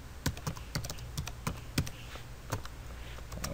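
Keys clatter on a computer keyboard while a location is entered into a WordPress calendar plugin: quick irregular clicks in short bursts with brief pauses, close and fairly quiet.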